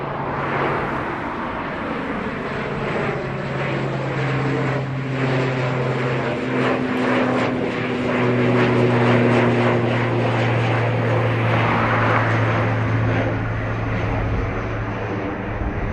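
ATR turboprop airliner taking off at Dublin Airport with a sustained loud propeller drone and engine roar that swells in the middle, steady and fairly close.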